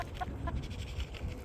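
A backyard chicken clucking softly up close, a few short throaty clucks over a low background rumble.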